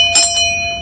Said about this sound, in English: ring that notification bell so you'll know when the next episode is up and running